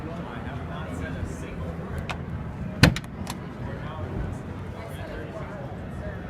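A single sharp mechanical clunk of a bus-style car door opening at an auto show, close by, surrounded by low rumble and background noise.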